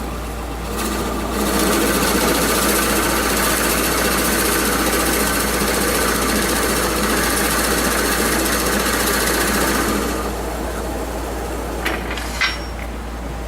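Forstner bit drilling into Spanish cedar on a lathe turned down to about 500 rpm, a loud, continuous grinding whir for about eight seconds, then a tapering hum with a few faint clicks.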